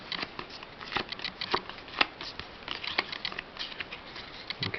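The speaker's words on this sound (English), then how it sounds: "they're going to shuffle their deck of cards" A deck of cards is shuffled up close, a quiet run of riffling snaps and soft flutters in uneven bursts for several seconds.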